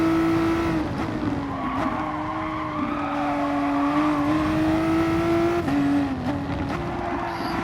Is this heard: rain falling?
no